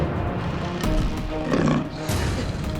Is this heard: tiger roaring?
yes